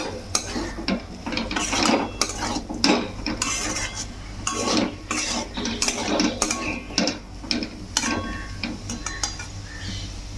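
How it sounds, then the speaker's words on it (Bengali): A utensil stirs and scrapes potato sandwich filling frying in a pan, repeated clinking and scraping strokes over a soft continuous sizzle, close and fairly loud throughout. "ভালো করে একসঙ্গে মিশিয়ে নেব, মিশাবো, আর এটা ভাজা ভাজাও হবে।"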